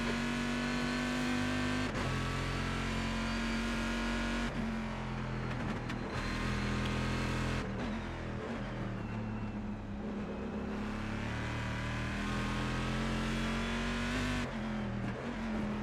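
A Corvette GT1 race car in iRacing holds a loud, steady engine drone that shifts pitch through gear changes and throttle lifts, staying close and continuous throughout.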